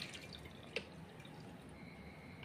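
Ground pani puri mixture being strained, liquid dripping quietly and steadily through the strainer with one sharper drip near the start, faint and close with no talking.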